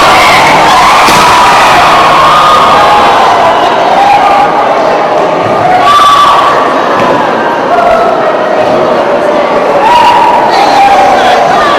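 A large crowd shouts and yells together in a loud, continuous roar with scattered thumps, sustained without a break for the whole stretch.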